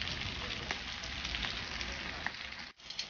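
An eggplant omelette sizzles and crackles in a hot pan, a steady close frying hiss with a few small pops and a brief dip near the end.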